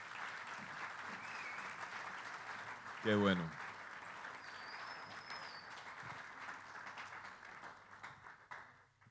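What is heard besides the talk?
audience applauding the volunteers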